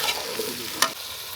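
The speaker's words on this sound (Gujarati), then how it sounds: "પહેલાં તો વરખું હલાવી દેવાનું એકવાર એટલે મસાલા બરોબર અંદર મિક્સ થાય" Masala is stirred in a pot on a village stove, a brief close sizzle and scrape with one sharp clink of the spoon, no one talking.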